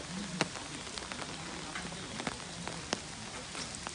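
Steady hiss of heavy rain falling on a surface at Nara Deer Park, Japan, with scattered sharper drops and taps popping out now and then.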